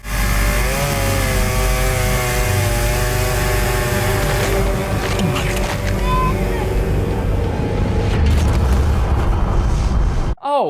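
Chainsaw revved during a shark-attack scene in the film Sharknado 2, a loud, sustained engine whine with shifting pitch, buried in a dense, busy movie soundtrack.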